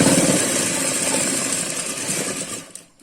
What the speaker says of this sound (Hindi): और अब हमें ऊपर की तरफ सिलाई लगानी है